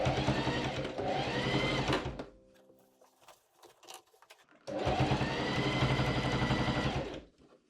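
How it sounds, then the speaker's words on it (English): A serger overlock machine runs in two loud, steady bursts as it sews a seam on casual sweatpants, with a quiet pause of small handling sounds between the runs. "I serge that seam."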